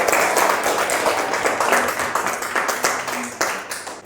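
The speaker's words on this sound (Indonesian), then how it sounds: "Oke, tepuk tangan." A classroom full of people clapping steadily for a few seconds, dense and fairly loud, with a few voices mixed in.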